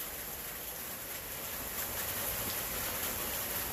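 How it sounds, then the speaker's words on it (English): Steady rain pours outdoors over a flooded garden with tomato plants, a dense, even hiss that holds loud throughout with no voices. "It's raining."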